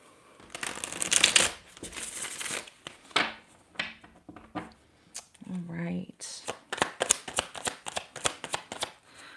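Tarot cards shuffled close by in repeated bursts of riffling and crisp flicking, with short pauses and softer handling sounds between them; a voice speaks briefly in the middle.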